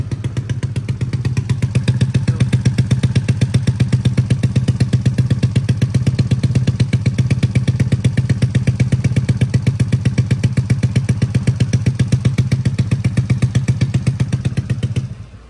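A 130cc daily-use motorcycle fitted with a racing-spec engine, 150 CLC and roughly 11:1 compression on its original carburetor, idles loudly and steadily up close in a fast, even thumping pulse with no one talking.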